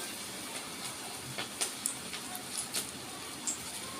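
Chicken pakora ball dropped into hot oil while frying, giving a steady broad hiss with a few brief crackling pops over about four seconds, fairly quiet and close, with no talk.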